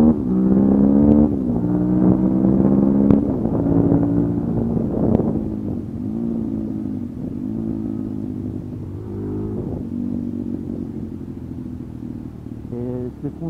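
A Suzuki DRZ 400 SM supermoto's single-cylinder engine pulls steadily while riding, its loud buzzy drone rising and dipping with throttle changes and gear shifts, with wind rushing over the microphone.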